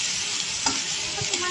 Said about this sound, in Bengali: একটু ভাজা ভাজা করে নিতে হবে পেঁয়াজটা